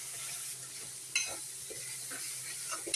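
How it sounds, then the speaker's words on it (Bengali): Koi fish masala fries in a pan as chili and turmeric powder are stirred in: a soft continuous sizzle broken by a few scraping stirring strokes, one sharper clink near the middle. "হালকা করে লঙ্কা গুঁড়ো দিয়ে দিলাম, হলুদ গুঁড়ো দিয়ে দিলাম, দিয়ে একটু নেড়ে দিলাম"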